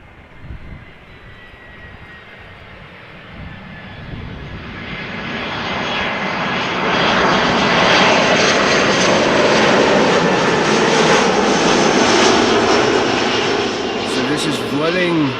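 A Vueling airliner at Amsterdam Schiphol Airport, its jet roar building steadily from a moderate rumble to a loud, sustained, broadband blast that holds for the last half of the fifteen seconds.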